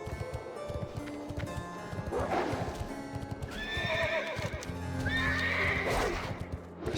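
In the World of Warcraft game, a horse's hooves clip-clop in a quick steady rhythm while it neighs and whinnies twice in long, high calls, close and fairly loud.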